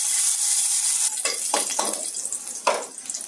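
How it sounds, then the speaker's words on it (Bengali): Dried red chillies hitting hot oil in a pan with a steady close sizzle, followed by several short stirring scrapes and utensil clatters. "আমি শুকনো লঙ্কাগুলো দিয়ে দেবো।"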